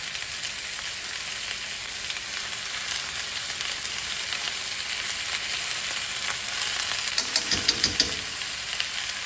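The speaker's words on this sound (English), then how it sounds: "I'm gonna go ahead and add a little dash of some sesame oil, and then also my chili oil, my homemade chili oil." Sesame oil and homemade chili oil sizzle steadily in a hot pan, a continuous close hiss with a few sharper crackles and stirring clicks near the end, no voices.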